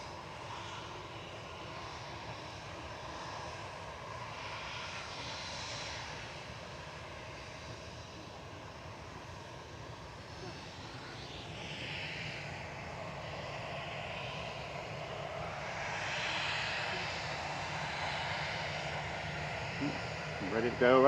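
An older airliner with standard winglets lines up on the runway at Manchester Airport. Its engines give a steady, distant drone that swells slightly toward the end.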